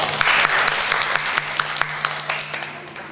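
Group of children clapping together on cue, a loud burst of mixed claps with distinct individual hand claps, gradually thinning out and tapering off near the end.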